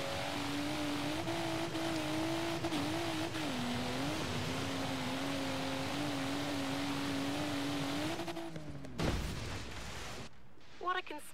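Car engine in the racing video game Forza Horizon 3 hums at a steady pitch with slight rises and dips, then swells briefly near the end, sitting fairly quiet under a constant background wash.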